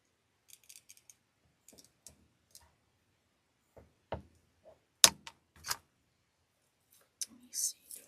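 A few small snips of scissors trimming the tips off crystal icicle ornaments for an angel grapevine wreath, faint isolated clicks with quiet whispery handling noises in between.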